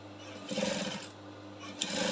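Sewing machine stitching a corset yoke with lining, a steady mechanical whirr running in bursts with a brief pause between runs, close and moderately loud.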